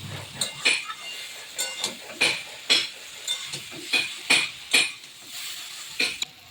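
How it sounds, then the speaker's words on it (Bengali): Fried potatoes and flour are sautéed in a pan, heard up close as a steady rhythm of spatula scrapes and metallic clinks against the pan over a quiet background. "এই যে ভাজা আলু দিয়েও ভালোভাবে কষিয়ে নিচ্ছি।"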